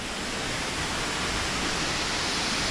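A waterfall in Artvin roars as a dense, even wash of rushing water, steady and broadband from start to finish with no other sounds standing out.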